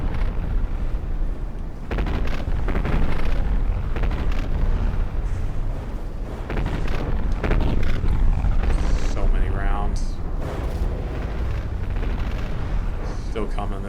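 Battleship combat in the video game Big Iron, with blocks blowing off ships: loud continuous rumbling blasts and booming explosions overlapping into a heavy, sustained roar.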